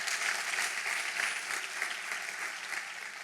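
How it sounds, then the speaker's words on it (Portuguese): Church congregation applauding together, a dense, even burst of many hands clapping that holds steady and slowly tapers off. "Você pode honrar a palavra de Deus com a salva de palmas."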